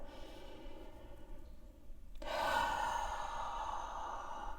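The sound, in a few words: slow full exhale breathing out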